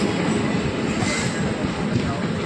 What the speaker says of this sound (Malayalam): നമ്മുടെ ചെന്നൈ ആലപ്പുഴ സൂപ്പർ ഫാസ്റ്റാണ് ഈ പോകുന്നത്.